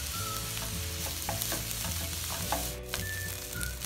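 Fried rice with salted fish and soy sauce is stirred in a hot pan, with steady sizzling broken by repeated scraping and clinking of a utensil against the pan. The sounds are close and nobody speaks.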